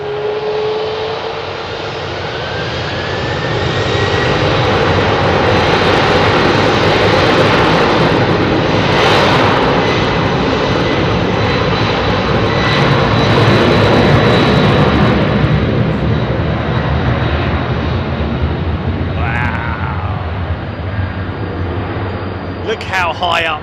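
A Boeing 777 jet roars steadily and loudly on Heathrow's runway 27R, a sustained broadband engine rumble with whining tones that swells and holds for over twenty seconds, with faint talk beneath.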